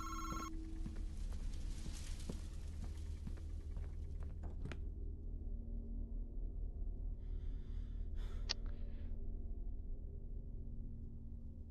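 Telephone ringing inside a horror video game, a short burst of bell-like rings near the start and again briefly later, heard over a constant low droning ambience with no talking.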